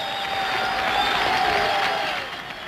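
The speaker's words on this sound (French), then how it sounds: "les représentants de plus de 600 organisations locales d'action sociale et de résistance acclament les vétérans des années 50" A large crowd at a 1983 South African anti-apartheid rally, representatives of over 600 local organisations, applauds and cheers veterans of the 1950s struggle, a steady dense wash of clapping that fades slightly at the end.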